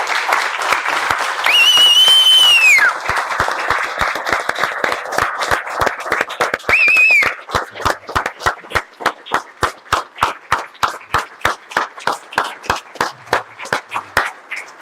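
An audience applauds police officers with loud clapping that later settles into rhythmic unison claps. Whistles rise over the clapping twice, and scattered cheers can be heard.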